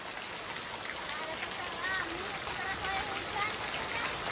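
Heavy rain falls over a village in a steady, close hiss of drops on surfaces, swelling slightly midway, with voices talking underneath.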